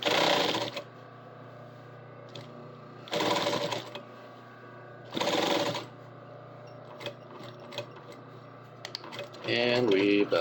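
A sewing machine stitches and backstitches a back pocket seam in three quick rattling bursts separated by quiet pauses, then a final burst; the mechanism sounds close but fairly soft.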